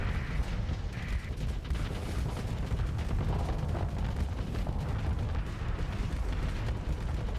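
Hurricane missiles and torpedoes pounding a station in a Starsector space battle, a dense continuous barrage of booming impacts and explosions rumbling without pause.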